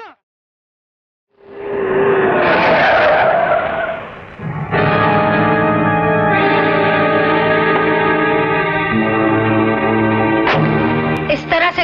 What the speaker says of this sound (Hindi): इस तरह से गाड़ी रोकने का क्या मतलब है?